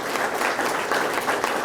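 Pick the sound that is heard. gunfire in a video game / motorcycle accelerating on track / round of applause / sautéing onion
round of applause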